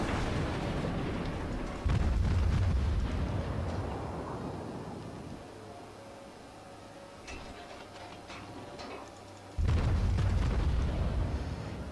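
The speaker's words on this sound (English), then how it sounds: "So we're just firing more AP here." Heavy naval gunfire from a warship firing armour-piercing shells in World of Warships, with deep booming salvos at the start and again near the end over a steady low engine rumble.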